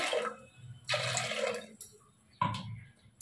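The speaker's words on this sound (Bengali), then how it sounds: "তো চলুন ডালটা বসিয়ে দিই, জল দিয়ে দিলাম" Water poured into a cooking pot for dal in a home kitchen, in three separate splashing bursts with short pauses between them, close and fairly loud.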